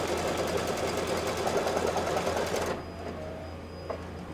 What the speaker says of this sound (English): Put the hoop back in the machine. And now it's going to stitch the upper placement line for your accent fabric up here.